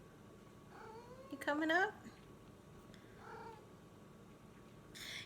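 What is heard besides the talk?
cat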